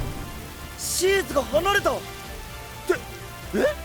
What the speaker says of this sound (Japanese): 雨だ。 これで池の水も少しは増える。